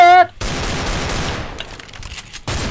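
Shotgun blasts and other gunfire in a Counter-Strike: Global Offensive match, a loud, dense volley that fades and then returns abruptly, with a brief tone at the start.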